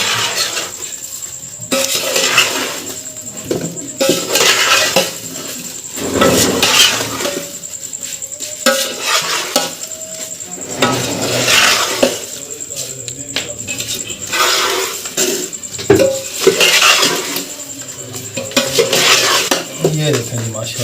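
Lasoora pickle being mixed with salt in a pot: loud, continuous metal-on-metal scraping and clattering from a spoon working through the mixture, with occasional clinks.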